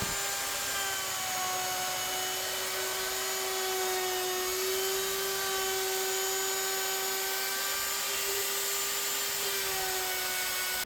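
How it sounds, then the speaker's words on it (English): A wood router fitted with a round-over bit cuts an edge in wood, a steady high-pitched whine holding a constant tone throughout, loud and close, with a continuous machining hiss beneath it and no talking. "Just got a round over bit in the router. Going to go all the way around."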